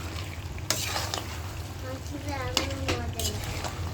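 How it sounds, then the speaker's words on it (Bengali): Potato pieces dropped into a pan of frying chicken masala, a continuous sizzle with clinks of a utensil against the pan and a couple of sharp knocks, under nearby talk. "কষিয়ে নিয়েছি, পর্যায়ে দিয়ে দিব আলু, দিয়ে দিলাম আলু।"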